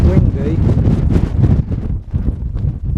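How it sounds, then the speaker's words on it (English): Strong gusting wind on an exposed mountain ridge leading up to Corn Du near Pen y Fan, roaring and buffeting the microphone continuously at close, loud level for the whole stretch, with no clear talk. "to being extremely windy, and it sort of buffets you around a lot"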